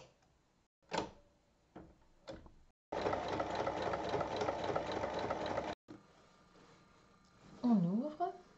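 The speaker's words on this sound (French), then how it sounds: "Il faut piquer sur toute la longueur" A sewing machine stitches a zipper onto fabric lined with an outer layer, running in one steady burst of rapid mechanical whirring after a few short clicks and thumps, then a voice speaks briefly.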